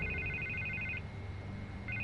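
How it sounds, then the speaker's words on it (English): A telephone rings with a rapid electronic trill lasting about a second, pauses, then starts again, over a low hum of background noise. "I can't get the phone to stop ringing."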